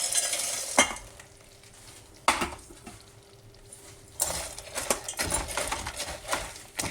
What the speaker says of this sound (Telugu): ఇప్పుడు ఈ బూందీ ఇందులో వేసేస్తాము. వేస్తే కలిపేస్తాము.